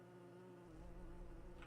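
Bees buzz in an RPG Maker game as a low, steady drone, quiet and continuous. The hum grows slightly louder toward the end of the short stretch.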